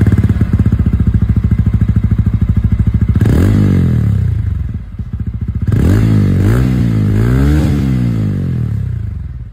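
A 2025 TVS Ronin 225 motorcycle idles with a loud, steady exhaust burble close by, then blips its throttle into a rising rev, and later gives two further quick revs before settling back to idle. No one talks over it.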